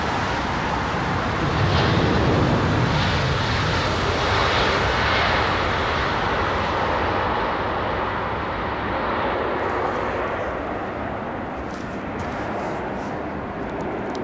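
A Boeing 777 on approach to London Heathrow runway 27R roars overhead, a broad jet-engine rumble swelling early then slowly fading into distant traffic hum; no talking.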